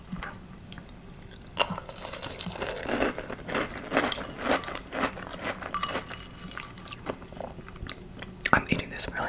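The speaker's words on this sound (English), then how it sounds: "I'm eating this really fast." Close, crisp crunching and biting of Fruit Loops cereal eaten fast, ASMR style, a steady run of sharp crackly bites with soft mouth sounds and faint breathy whispering mixed in.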